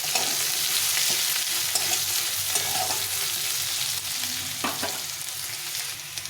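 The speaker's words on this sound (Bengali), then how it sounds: "এখন আমি দিয়ে দেবো এর মধ্যে আলুটা। প্রথমে একটু আলুটা ভেজে নেব।" Potato pieces fry in hot oil alongside reddish-browned onions in a pan, a constant close sizzle punctuated by occasional scrapes and stirs of the spoon, with no talking.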